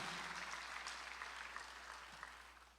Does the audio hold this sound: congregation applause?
yes